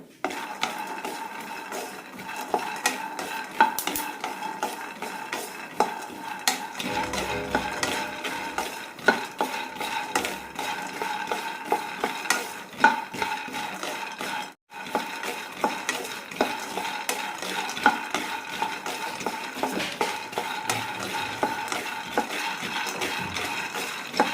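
Peanuts dry-roasting in a pan over medium-low flame, stirred continuously: a dense, steady rattle and scrape of nuts against metal, close and even throughout, with no talking.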